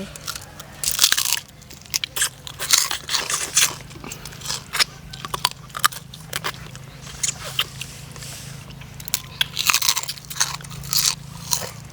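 Close, loud crunching as someone bites and chews crispy pork rinds, sharp crackly bursts repeating irregularly over a low background hum.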